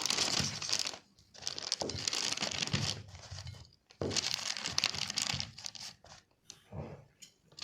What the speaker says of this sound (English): I'll put the peeled banana into a plastic bag for a easy mashing.